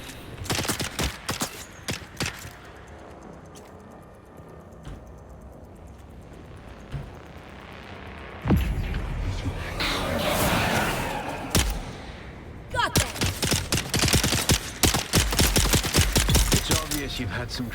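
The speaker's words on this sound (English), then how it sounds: "This bitch started shooting me already." Gunfire in the video game Dune Awakening: dense bursts of rapid shots in the opening seconds, then a quieter stretch, then a loud roar followed by sustained fast volleys to the end, with a player's voice now and then.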